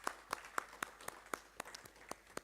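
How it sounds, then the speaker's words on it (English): Scattered hand claps ring out at a steady pace, sounding like a small, faint round of applause for panelists at a disaster risk reduction workshop, with no voices. "I would like to request to give a big round of applause to all the plenary panelists."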